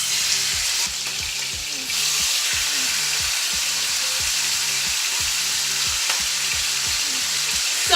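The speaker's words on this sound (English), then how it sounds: "and put them in the oil." Chicken pieces fry in hot oil for inside-out chicken cordon bleu, a constant close sizzle with faint rhythmic clatter underneath and a slight rise in intensity partway through, with no voices.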